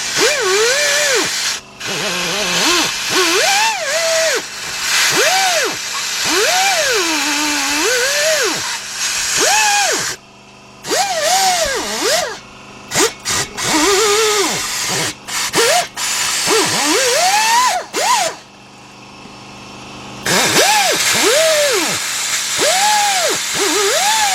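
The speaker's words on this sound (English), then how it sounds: "Now I'm gonna take my wire wheel and we're gonna clean up those threads." A wire wheel scrubs bolt threads on a 2006 Kia Sportage 2.7 engine, its close, loud whine rising and sagging in pitch through repeated bursts, separated by several brief stops.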